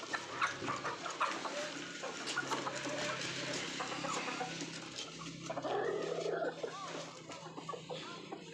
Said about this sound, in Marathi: आता कोंबड्या सोडायच्या अजून कोंबड्याला बाजरी टाकायची